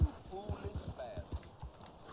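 Horse hooves clip-clop at a steady trot in the Red Dead Online video game, a quiet rhythmic beat under game ambience and soft background sounds.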